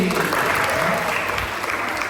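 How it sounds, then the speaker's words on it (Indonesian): A congregation at an Easter church service claps warmly for a child, close and loud continuous applause with voices mingling beneath it. "tepuk tangan buat Yuri"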